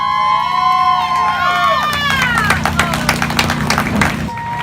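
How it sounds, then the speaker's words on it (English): A magic show audience claps and cheers in a lively burst, with shouts and crowd babble over scattered handclaps, while warbling musical tones sound at the start and a low hum runs underneath. "Come on, give it up,"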